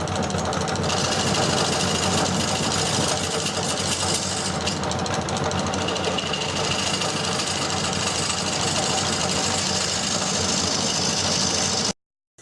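Wood lathe spinning an off-center flying saucer bowl blank, a steady mechanical whir with vibration and hum that runs continuously and close before cutting off abruptly at the end.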